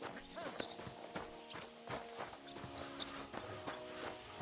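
Horse hooves clip-clopping in Kingdom Come: Deliverance II, a steady walking rhythm of crisp, moderately near hoof strikes with faint background sounds.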